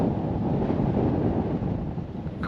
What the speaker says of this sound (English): God, that's windy.